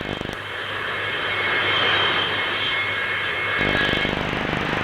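An English Electric Canberra B-8 jet bomber flies past at an airshow, a loud sustained jet roar that swells and then changes character toward the end, with no voices.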